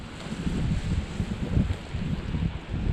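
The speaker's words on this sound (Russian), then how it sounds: "Ох и ветер." Strong wind buffeting the microphone at a fishing spot, a continuous low rumbling roar with gusty surges and no speech.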